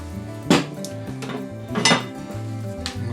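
A spoon stirs reheated melted chocolate in a bowl for homemade caramel candies, giving two distinct clinking scrapes against the bowl, with soft tonal background music underneath.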